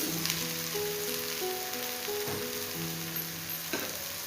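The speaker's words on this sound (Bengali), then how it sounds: "তো এটা এবারে এই তেলে ভাজবো একটু।" Soaked, squeezed soybean chunks frying in oil make a continuous, close sizzle, with faint tonal hums running beneath it and a couple of brief knocks.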